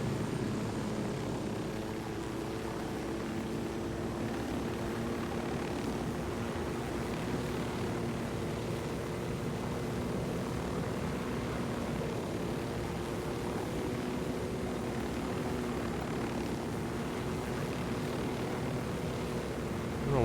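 Aircraft engine in the Ghost Recon Wildlands video game during takeoff, a steady loud droning roar with a tonal hum that holds evenly throughout, with no talk over it.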